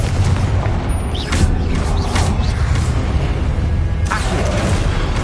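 Explosive Confringo spell blasts in the Hogwarts Legacy video game, a dense rumbling barrage with repeated bursts and booms layered over steady game noise, loud and continuous.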